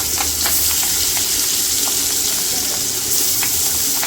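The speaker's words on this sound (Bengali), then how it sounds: "কড়াইকে দিয়ে মাছগুলো ভাইজে নিই।" Pabda fish fry in hot oil in a wok, a loud, close, continuous sizzle with crackling pops scattered through it and no talking.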